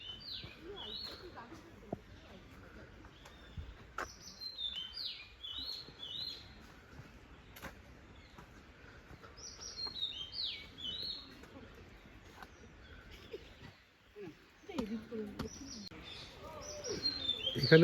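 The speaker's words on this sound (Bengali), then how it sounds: "অনেক পাখির ডাক শুনতে পাচ্ছি।" Many birds calling at the Ranganathittu bird sanctuary near Srirangapatna: scattered high chirps and short bursts of song come and go at a moderate distance over a quiet outdoor background.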